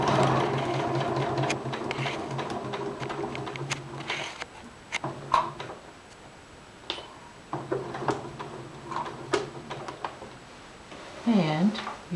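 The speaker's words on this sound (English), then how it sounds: "you see I'm sewing right from point to point" A sewing machine stitches a tower placket from point to point in rapid mechanical runs, stopping and starting, with soft clicks and handling noises in the pauses and a voice talking quietly over it.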